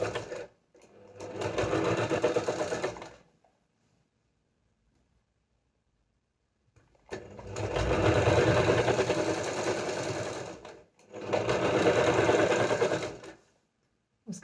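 Sewing machine stitching fabric for palazzo pants, close and loud, running in three steady bursts of a few seconds each separated by near silence.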